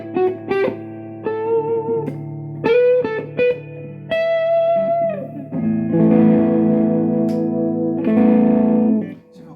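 Distorted electric guitar on a Les Paul-style instrument through its bridge pickup, a run of single sustained notes giving way to thick ringing overdriven chords, loud and close with effects-laden sustain and no talking.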